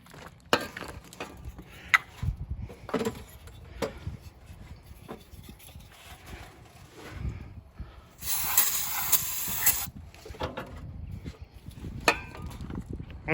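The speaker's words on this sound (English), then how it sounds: "let's hit it with some starting fluid" A can of starting fluid hisses in a sustained spray lasting about a second and a half into an old car's engine, amid scattered clunks and handling sounds nearby; no speech.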